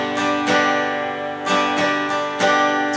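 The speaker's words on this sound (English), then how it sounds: "And then strum pattern wise, it's going to be down, up, down, up, down." Guitar strumming chords of the Christmas carol "It Came Upon a Midnight Clear" in G with a down-up strum pattern, sharp repeated strokes ringing close and loud with no voice.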